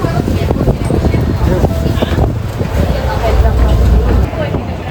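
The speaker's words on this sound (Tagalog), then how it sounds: "pabalik na kami ng Ocean Ferry" Ferry ride on the Ocean Ferry in Kaohsiung, Taiwan, heading back from Cijin Island: a steady low engine rumble and water wash fill the clip, with voices talking over it throughout.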